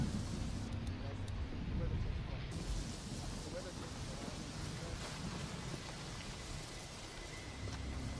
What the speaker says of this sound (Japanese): 雨が降ってきました。